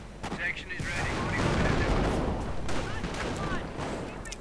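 Dense gunfire and explosions from a WWII real-time strategy battle with an MG42 bunker, a continuous rattle of shots and booms, with a voice talking over it.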